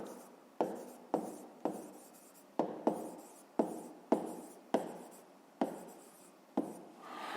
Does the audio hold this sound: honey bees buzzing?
no